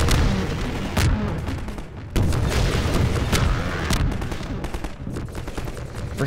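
Repeated rocket explosions and gunfire in the Half-Life 2 video game: a dense, loud barrage with several sharp blasts roughly a second apart over continuous shooting, a voice briefly in the mix.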